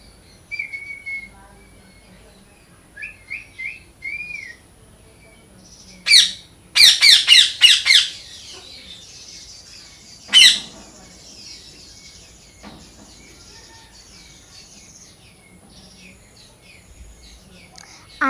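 Pet birds being released squawk and chirp in scattered bursts: a few soft whistles at first, then loud clustered squawks near the middle and one more sharp call, with quieter twitters between long pauses.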